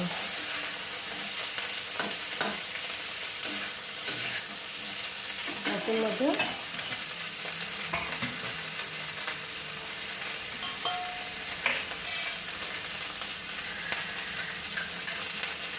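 Capsicum and onion stir-fried in a pan for paneer chili, a continuous loud sizzle with scraping spatula strokes and occasional clinks throughout.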